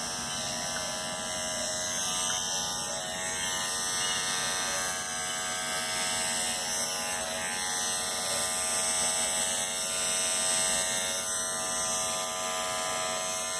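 Electric hair clippers buzz steadily and continuously close by while shaving a head for an undercut, a constant vibrating hum with no pauses.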